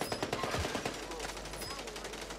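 Rapid light-machine-gun fire in the Call of Duty shooter, set in Verdansk, chattering in quick bursts up close with a second burst later on, all under continuous game noise.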